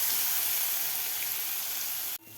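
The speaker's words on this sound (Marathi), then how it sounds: "तर हे सुद्धा आपल्याला 1 मिनिटभर परतून घ्यायचं आहे वाटण," Green chili and garlic paste sizzles steadily in a pan while being sautéed for matar kadhi, a close, continuous broad frying hiss that cuts off abruptly near the end.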